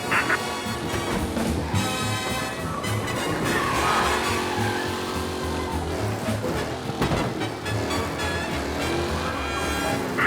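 Race car engine from Mafia Definitive Edition roars and revs continuously, loud and close, with shifting pitch as it drives along under a layer of music.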